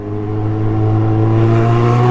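A Yamaha XJ6 motorcycle with a loud pipe exhaust revs and builds, its droning, harmonic engine note rising in loudness and staying close and strong throughout, with no talking over it.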